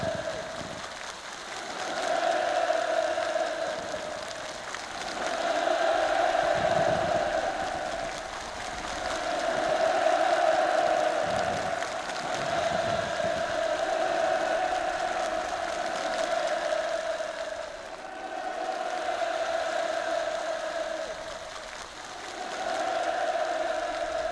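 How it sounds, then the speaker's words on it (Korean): A huge rally crowd roars and cheers enthusiastically in long rolling waves of shouting, loud and continuous with brief lulls between surges, as participants respond at the end of a speech. "전체 참가자들이 터치는 열광의 환호와 결사관철의 우렁찬 함성이 하늘 땅을 진감했습니다"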